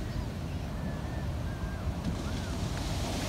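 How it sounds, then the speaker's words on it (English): Ocean waves breaking on a shore, a dense continuous roar of surf and wind buffeting the microphone, loud and close with no clear individual crashes. "Those are not that big of waves."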